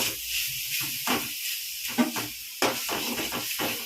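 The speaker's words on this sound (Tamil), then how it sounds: "போட்டு தண்ணி ஊற்றிடலாம்" Sharp bursts of hissing and sizzling as water is poured into a hot pan of spiced semiya biryani, coming in several uneven spurts with quiet gaps between.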